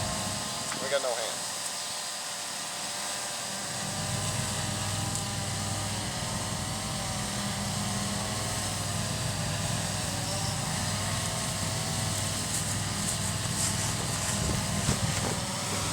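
A Blade 350QX RC quadcopter hovers and flies, its rotors producing a steady buzzing whine that starts after a brief lull and holds at moderate level, with a person talking over it.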